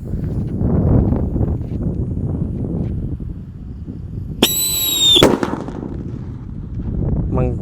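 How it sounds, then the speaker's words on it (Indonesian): A Black Buster firecracker explodes inside a hole in the ground, a single loud burst partway through that rises over a low, rumbling outdoor background and then falls quiet. "lanjut kita akan menyalakan mercon black buster di dalam tanah ini guys"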